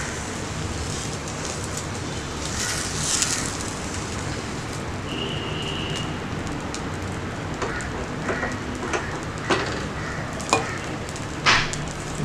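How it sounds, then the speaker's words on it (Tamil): Appam batter poured into a hot appam pan and swirled around, giving a steady close sizzle and hiss with a few sharper scraping clicks toward the end, no talking. "இப்போ நம்ம வந்து ஆப்ப மாவு ஊற்றிக்கலாம். இப்போ நம்ம சுற்றிக்கலாம்."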